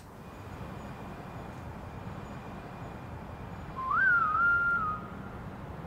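A bright melodic whistle enters partway through a song, rising and holding a short tune for about a second over the steady music bed before fading back into the mix.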